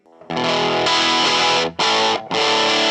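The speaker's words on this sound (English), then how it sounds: "I do like that better than just the distortion amp" Heavily distorted electric guitar chords ring out loud and close, a long sustained strum followed by two shorter chord hits.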